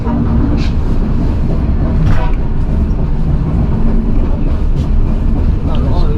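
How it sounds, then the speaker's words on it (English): A White Pass scenic railway train rolls along and passes another train, heard as a dense, steady low rumble with wind buffeting and faint squeals over the top. "we'll be passing that last train on our left here shortly"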